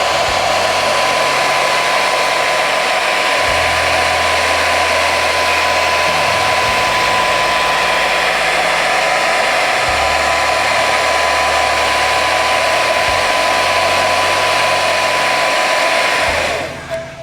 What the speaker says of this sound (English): So I'm going to go ahead and heat this up right now with a hairdryer.